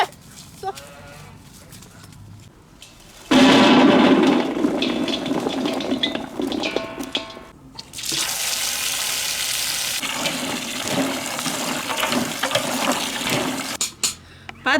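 Tap water runs in a steady, fairly loud rush while Chinese artichoke tubers are washed in a rural northern Shaanxi kitchen, starting after a few quiet seconds and continuing with brief breaks to the end.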